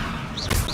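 A levitation spell cast in Hogwarts Legacy: a soft whooshing shimmer with rising and falling sparkly sweeps, capped by a brief thumping burst near the end, all fairly close and moderately loud.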